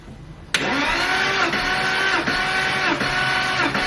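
Porsche Boxster 986 flat-six cranking on the starter during a compression test, a sudden onset followed by a steady whirring drone with rhythmic dips from each compression stroke, close and loud with no voices.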